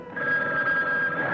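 A telephone bell rings close and loud in a 1980 slasher film trailer, a single steady trill with no talk over it.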